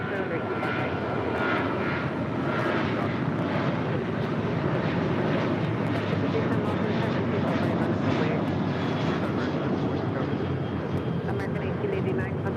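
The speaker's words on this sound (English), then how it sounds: "That was American Airlines Flight 1889 heading to Las Vegas at a 737-800 right there." An American Airlines Boeing 737-800 jet roars steadily at LAX, a loud, sustained engine rumble and whine of a departing airliner that holds throughout.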